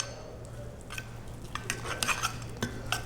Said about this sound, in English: We're gonna add some peppercorn, little touch of salt, and we're gonna mix it.